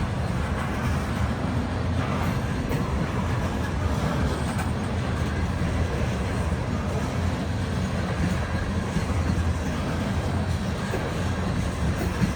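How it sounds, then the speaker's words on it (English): Coal train rolling past on railway tracks climbing a hill toward a power plant, a steady, moderately distant rumble with continuous wheel and wagon noise. "Coal trains through here are a pretty regular occurrence."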